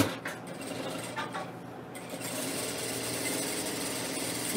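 A sewing machine stitches a Fox and Geese quilt project, giving a close, continuous mechanical whir with a rapid rhythmic rattle that steadies after a few brief stops and starts near the beginning.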